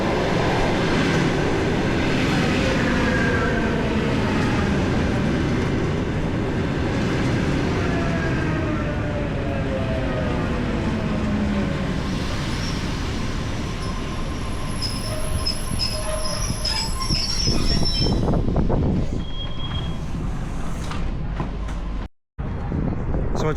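A subway train in a busy Moscow metro station rumbles loudly and continuously with squealing wheels and rail noise, fading and thinning toward the end.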